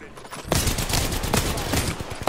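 Gunfire in the Apex Legends video game during a sniper-only match, a dense burst of loud sharp shots lasting about two seconds, close and harsh.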